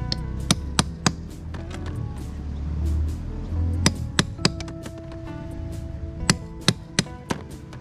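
Sharp metallic strikes ring out one at a time at an uneven pace, a hammer tapping a bolo knife on E-glass, each hit clear and bright over a quiet background.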